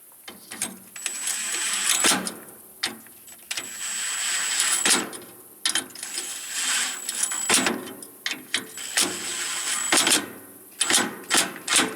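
Small hand wrench tightening bolts on a MacDon 5000 haybine, with repeated ratcheting clicks in short bursts separated by pauses and metallic clinks, close up.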